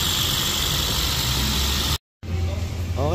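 A Toyota Vios engine idles steadily after intake manifold and throttle body carbon cleaning, a smooth low hum with broadband hiss, briefly cut to silence before resuming the same even idle.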